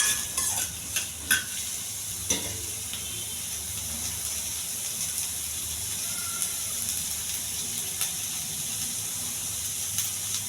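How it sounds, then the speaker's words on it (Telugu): Onion pieces fry in a hot pan with a steady, close sizzle and hiss, broken by a few sharp crackles early on. "ఉల్లిపాయ ముక్కలు కొంచెం ద్వారగా వేగించాలి."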